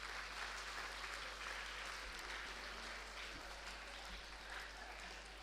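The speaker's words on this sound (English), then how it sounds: "a huge round of applause to all of you" Faint, distant-sounding audience applause at a public gathering, a continuous wash of clapping over a steady low hum.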